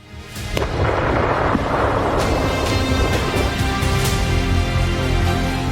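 A Russian strike blowing up missile depot 649, heard as a loud, sustained rumbling roar with crackling bursts layered on top, continuous and heavy throughout.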